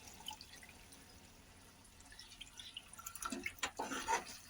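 Quiet background at first, then water splashes and pours in a few short bursts near the end, faint and close.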